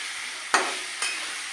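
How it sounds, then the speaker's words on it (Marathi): Food roasts in a pan with a constant high sizzle, and two brief stirring scrapes stand out over it in quick succession, with no voices. "आणि हे बघा मस्त भाजून चाललंय."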